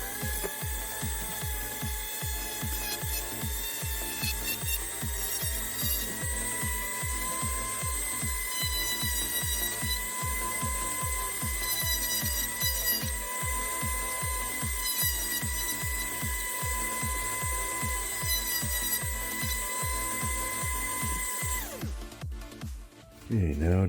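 A small power drill whines steadily while boring holes in a Cardassian Keldon class model, its motor tone holding with a regular rapid pulsing, close and loud, before cutting off near the end.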